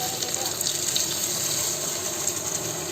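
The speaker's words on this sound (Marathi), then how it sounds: "हे बघ असं पाणी टाकायचं. चिकनच्या वरती आलं ना बरोबर पाणी." Water pours steadily from a vessel into a cooking pot over spice-fried chicken, a continuous splashing gush that holds at an even level for a few seconds.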